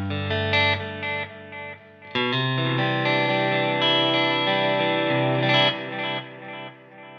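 Electric guitar through a Headrush processor with a delay effect, clean sustained chords and notes ringing out with repeating echoes, played alone.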